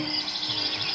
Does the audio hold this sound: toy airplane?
no